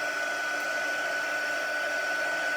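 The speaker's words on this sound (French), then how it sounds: "Je reprends mon pistolet. Je vais chauffer ça ici." A heat gun blows a steady, even hiss with a faint high whine as it heats embossing powder on design paper, continuous and alone for a few seconds.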